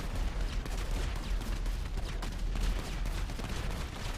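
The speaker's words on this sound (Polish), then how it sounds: "Długo to tak będzie wybuchało?" Explosions and gunfire in GTA V roleplay gameplay, a continuous chaotic barrage of booms and cracks, dense and rapid, rumbling without pause through the stretch with no talk over it.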